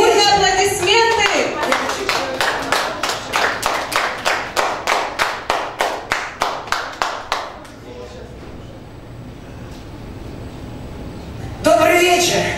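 A concert audience applauds a singer taking the stage, about fifteen loud, evenly spaced claps from a nearby group that then fade into quieter background clapping and crowd noise.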